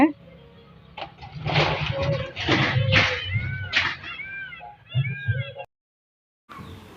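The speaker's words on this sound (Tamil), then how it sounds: "இந்த பூனை பிடிக்காதுடா கோழியை" A cat meows repeatedly, with several rising and falling cries close by, mixed with people talking over and between the calls.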